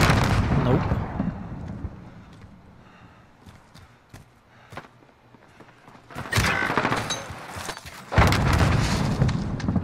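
Explosions and gunfire in Call of Duty Modern Warfare during a Search and Destroy match: sharp scattered shots through the middle, then two heavy booming blasts near the end, with a grenade detonation among them.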